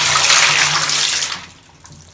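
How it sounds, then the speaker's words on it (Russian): Bath water from washing a pixie-bob kitten drains loudly as a broad rushing gush that fades out partway through, leaving near silence and one small splash. "Водичку эту сливаем."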